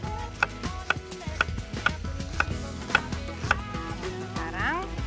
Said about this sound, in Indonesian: setengah bawang bombay, ini akan saya iris-iris